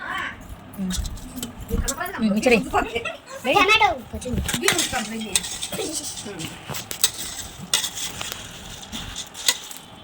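A pot of food being mixed with salt and chili, a spoon clanking and scraping against the metal in irregular bursts while a person talks over much of the mixing.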